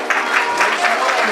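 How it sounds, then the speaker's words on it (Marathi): Audience applause at a 2020 gathering, a dense, steady wash of clapping from a crowd, loud and continuous across the whole short stretch. "मिलिंद डोलारे सरांसाठी जोरदार टाळ्या एकदा"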